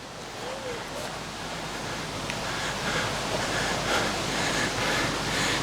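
A mountain river in Zreče, Slovenia, making a steady broadband rush that sounds like surf or wind, continuous and moderately loud.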